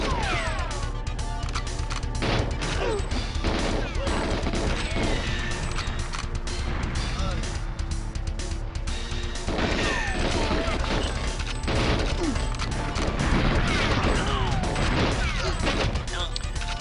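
Gunfire in GoldenEye 007 on the N64, dense bursts of rapid shots and crashing impacts filling the scene almost nonstop, loud and close, with a voice talking underneath.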